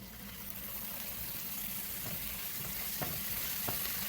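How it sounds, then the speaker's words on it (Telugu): Ginger garlic paste frying in a pan while being mixed, a steady dense sizzle throughout with a few soft scraping strokes, close and continuous with no talk. "వేసుకొని అల్లం వెల్లుల్లి పేస్ట్ మొత్తం అంతా మిక్స్ చేసుకోండి."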